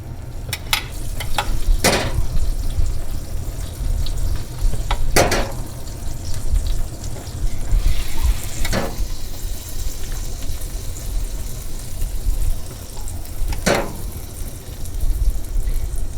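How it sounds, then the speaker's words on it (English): A roasted Cornish hen is basted in the oven after its aluminum foil comes off, with its juices sizzling and crackling steadily up close. A few sharp clicks and scrapes of the baster or pan stand out above the sizzle. "it's the time to take the aluminum foil out of that and start basting it"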